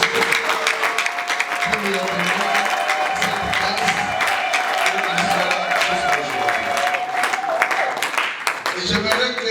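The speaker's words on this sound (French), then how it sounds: "j'aimerais d'abord que nous applaudissions pour le Seigneur Jésus-Christ" Church congregation applauding in sustained, loud clapping that fills the whole stretch, with cheering voices and talk mixed into the crowd noise.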